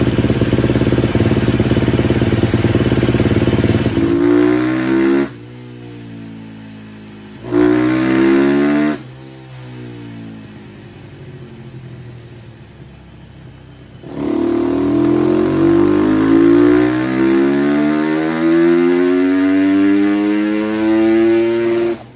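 A KTM 250 SX-F motorcycle engine with an Akrapovic slip-on exhaust revs up repeatedly on a dyno in long rising sweeps, loud and close, separated by quieter idling stretches.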